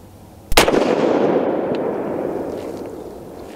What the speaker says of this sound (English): we got 27 grains of Varget, and we're gonna be shooting at the bottom of the center diamond.